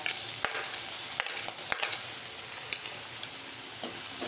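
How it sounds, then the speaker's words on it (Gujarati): Garlic paste and green chillies sizzle steadily in a hot pan while a utensil scrapes and stirs through them with occasional sharp clicks; no one speaks. "લસણની પેસ્ટ બનાવી હતી તે નાખીશું એને થોડું ફેરવી લઈશું અને લીલા મરચાં"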